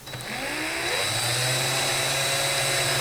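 Powered saw spinning up and cutting thin horizontal cork rings, a steady high whine that rises in pitch and then holds at a loud, even drone, close up, with no talking.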